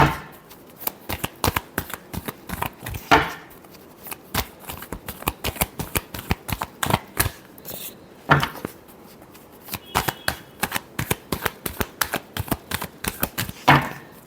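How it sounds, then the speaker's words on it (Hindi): Tarot cards being shuffled by hand in a steady run of crisp, rapid riffling snaps, close and fairly loud, with brief pauses between bursts and no voices. "Last shuffle."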